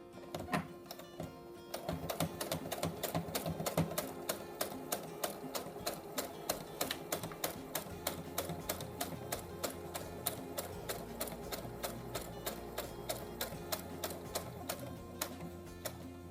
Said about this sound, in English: your sewing machine picks up and holds that dart in place